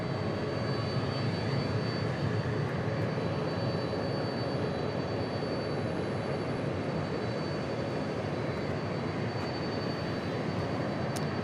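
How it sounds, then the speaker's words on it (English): Aer Lingus airliner approaching to land at DFW, a continuous even engine roar with a faint high whine, steady and moderately distant throughout. "Aer Lingus coming in."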